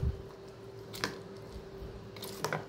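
Vegetable gravy for a desi veg rice bowl being stirred together with a little salt gives a few soft, wet squishes, one near the start of the clip and another near the end, quiet against a low steady hum.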